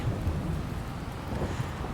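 Steady heavy rain hisses continuously in the video game Farming Simulator 22, with a deep thunder rumble rolling underneath throughout and no voices.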